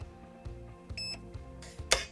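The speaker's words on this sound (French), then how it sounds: "C'est pour ça qu'on a un bip." Short electronic beeps from the LiPo battery alarm of a Perun ETU airsoft unit fitted to a Steyr AUG, a few quiet tonal chirps in a quiet room, ending in a brief sharper click.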